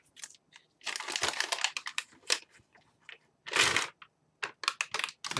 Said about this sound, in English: Take out the plastic.